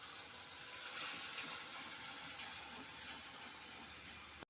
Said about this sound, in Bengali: এখন আমি মিক্সি ধোয়া জলটা দিয়ে দিচ্ছি।